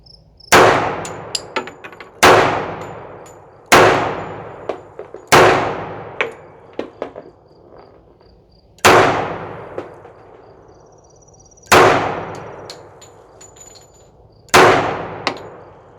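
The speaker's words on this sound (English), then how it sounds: "I said the one on the left is going to be the Colt, so it's what I got out now, and I'm shooting at the left one" Colt handgun firing at a steel target on a shooting range: seven sharp, loud shots spaced a second or two apart, each followed by a bright metallic clang ringing off the steel plate, with quiet pauses between.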